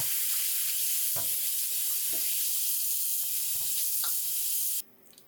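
Cold tap water rushes steadily onto boiled crab noodle soup proteins in a sink, a constant hissing splash with a few light clinks, then the flow cuts off abruptly near the end.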